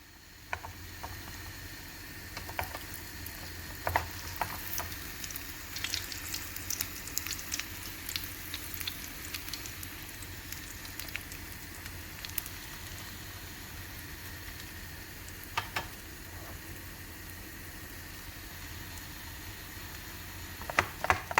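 Shredded kadayif pastry frying in a pan on a stovetop, a faint steady sizzle with scattered small crackles and pops throughout.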